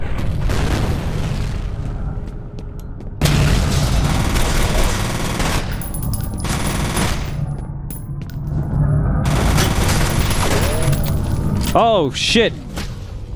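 Gunfire from the F.E.A.R. video game: dense, loud bursts of automatic fire and booming shots run almost nonstop, with a brief lull and ricochet-like sweeps near the end, and a voice speaks over the shooting.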